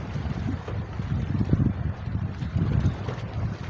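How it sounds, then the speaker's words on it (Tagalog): Gusty outdoor wind buffets the microphone on a hillside near houses in Tagdalungon, Rio Tuba, Bataraza, Palawan, a steady low rumble rising and falling in uneven surges with no voices. "Masarap lang dito guys, mahangin."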